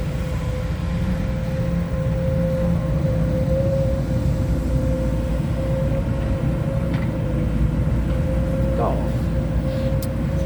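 A Sany SY200C excavator's Mitsubishi engine, with 6,300 hours of use, runs at a steady drone with a slight groaning whine held throughout, close and continuous.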